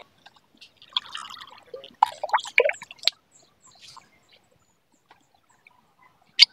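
Water splashes and drips as a pigeons' drinking container is emptied, in short bursts of pouring and trickling with a final drip; quiet and close, with no talking.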